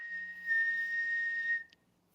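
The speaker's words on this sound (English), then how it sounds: "can you whistle while you work?" A person whistles a single sustained clear tone that holds steady for over a second before cutting off, fairly close and alone with no talking over it.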